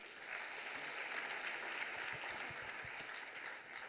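Steady, even applause from an audience at a French innovation awards ceremony, honouring students for their work; a dense, continuous wash of many hands at moderate distance.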